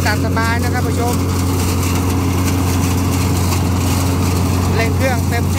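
A ride-on tractor fitted with a grass-cutting attachment runs its engine hard with a steady, loud, continuous drone. Voices sound faintly over the engine.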